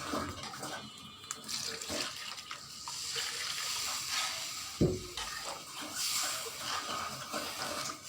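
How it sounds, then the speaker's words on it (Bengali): Water broth is poured into a cooking egg and potato curry, giving a steady, close hissing gush with a few clinks and a brief thump partway through. "কষানো হয়ে গেছে, এখন আমি ঝোলটা দিয়ে দিলাম।"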